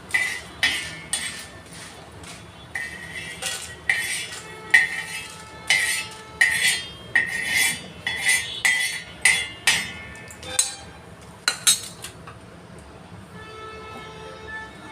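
Metal spatula scraping and clanking against a pan while frying with a little oil for an eggplant chutney, a steady rhythm of sharp metallic knocks and scrapes, close and fairly loud, with no talking.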